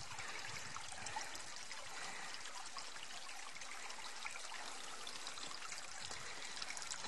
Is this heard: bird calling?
no